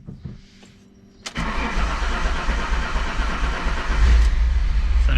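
Alfa Romeo 147 GTA with an ignition fault: a short starter crank gives way to a sudden catch, and the engine settles into a loud, steady idle close by that swells louder near the end.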